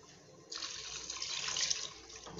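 Water pours steadily into a cooking pot for about two seconds, a close, splashing rush that swells slightly before tapering off.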